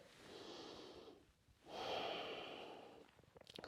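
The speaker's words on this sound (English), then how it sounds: "Full breath here." Slow, deep breaths during a yoga session, close to the microphone: a long airy exhale, a brief pause, then a stronger breath with a rushing, slightly nasal quality, and no talking.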